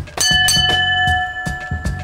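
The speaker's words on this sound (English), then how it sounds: "that's, that's a bell I used to operate." An old train communication bell, used for signalling between guard and driver, is struck several times in quick succession, bright ringing tones with a sustained metallic hum carrying between strikes.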